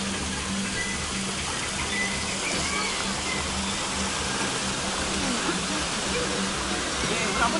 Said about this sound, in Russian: Ручей какой-то.